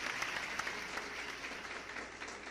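Congregation applauding in a church during a sermon, a steady, fairly faint wash of claps with no voices over it.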